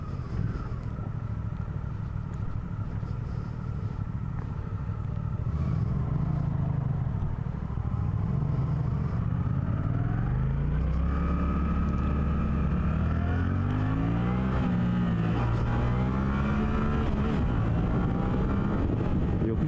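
A Suzuki GSX-8R motorcycle riding and accelerating, its engine droning steadily with rising and falling pitch sweeps as it revs through gears, wind rumble throughout and no talking.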